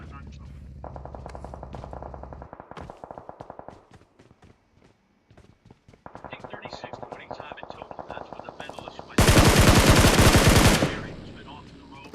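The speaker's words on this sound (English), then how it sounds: "Bullets have started to fly all over." Bursts of automatic gunfire from the battle royale game PUBG Mobile, rapid repeated shots in several runs with short pauses, ending in a loud dense burst, while a commentator talks over it.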